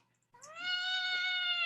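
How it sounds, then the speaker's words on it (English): A single long, drawn-out meow from a cat rises out of near silence and holds steady and loud to the end, with no voices over it. "the cat just does not want us to sign off"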